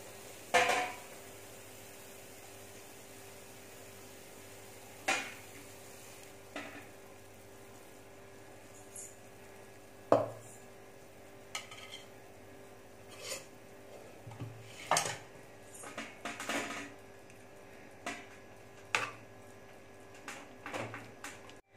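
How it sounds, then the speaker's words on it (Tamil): Jackfruit halwa being poured from a pan into a tray: sparse metallic scrapes and knocks of a utensil against the pan at irregular intervals over a quiet background. "அப்படியே இந்த ட்ரேல இதை அப்படியே கொட்டிட்டு"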